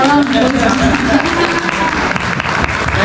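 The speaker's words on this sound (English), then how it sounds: "I think we have a round of applause for that question" Audience applause after a question during a Q&A session, a steady wash of clapping with crowd noise and some voices mixed in throughout.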